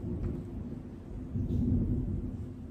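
Deep thunder from a lightning storm near a cabin by the water rolls on steadily for a few seconds, a low rumble that swells louder midway with no voices over it.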